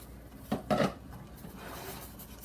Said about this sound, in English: We're gonna go ahead and cover it with the lid.